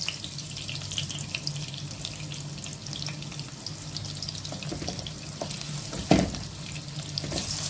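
Garlic sautéing in oil in a pan for ginataang kalabasa, a continuous soft sizzle and crackle with occasional stirring scrapes and a brief clatter near the end.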